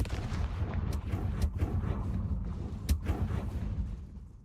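Confringo fire spell exploding in Hogwarts Legacy, a dense burst of sharp cracking blasts and crackling impacts over a low rumble, loud and close, tailing off at the end.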